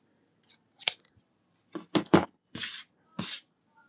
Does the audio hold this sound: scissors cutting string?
yes